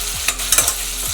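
Eggplant pieces going into frying onions in a pan for temple-style vangi bath, with a loud steady sizzle and a few quick stirring scrapes close by, no voices.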